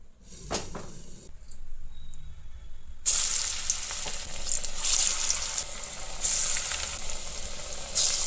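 Banana flower fritters drop into hot oil, starting with a few knocks and quiet handling, then a sudden bright, steady sizzle that swells and stays loud.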